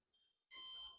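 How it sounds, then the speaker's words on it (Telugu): A drone's electronic speed controller gives one short, bright, high electronic beep during calibration, clean and isolated against silence. "డౌన్ చేసిన వెంటనే 3 టైమ్స్ బీప్ వస్తది"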